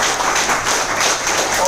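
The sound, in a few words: applause for invited guests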